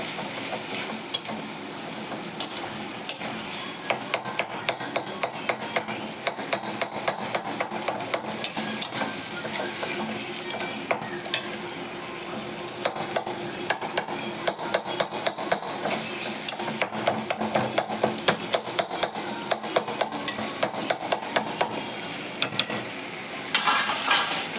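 Tomatoes sautéing in a pan for tomato kadhi, a spoon repeatedly clacking against the metal as they are stirred over a soft sizzle, steady and close, with no talk.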